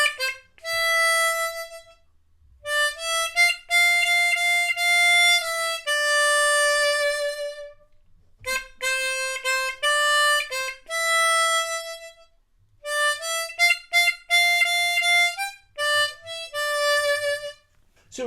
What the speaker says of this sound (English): So the verse should sound something like this.